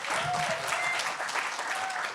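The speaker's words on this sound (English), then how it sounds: "Please give them a round of applause." A room full of listeners applauds at an arts exhibition event, dense even clapping heard fairly faintly and held steady throughout, with a few brief voices rising over it.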